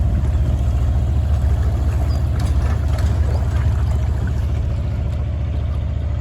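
A narrowboat engine chugs steadily and loudly up close on a canal, with a low rhythmic throb and faint water sounds as it moves along.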